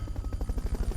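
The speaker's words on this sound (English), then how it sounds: "Fulton recovery helicopter is complete." Fulton recovery helicopter in the video game Metal Gear Solid Peace Walker, a steady rhythmic rotor chop with low thudding pulses, loud and close over a brief second with no voices.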